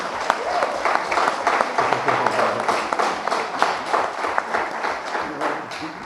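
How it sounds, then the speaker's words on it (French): An audience at a university closing ceremony applauds for several seconds, a dense, steady patter of many hands clapping in a hall, with voices faintly under it. "Je pense qu'il faut l'applaudir."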